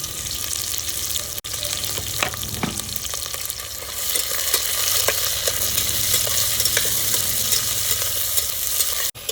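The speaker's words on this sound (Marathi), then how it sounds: "चार ते पाच हिरव्या मिरच्या एक चमचा जिरं सात आठ कडीपत्त्याचे पानं आणि बारीक उभं चिरलेला कांदा टाकून चांगलं परतून घ्यायचे" Green chilies, cumin, curry leaves and thinly sliced onion fry in hot oil for Maharashtrian mutton kalimiri, a loud, continuous close sizzle broken by a few spoon scrapes and stirring knocks.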